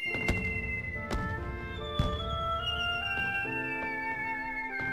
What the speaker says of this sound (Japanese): めっちゃいい音やし、花火の音が。